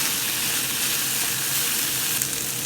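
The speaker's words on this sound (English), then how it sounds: "So you can see it's sizzling and spluttering." Onion, bacon and capsicum sizzle in a frying pan with a loud, close, continuous hiss and fine spluttering crackle, heard alone without any talking.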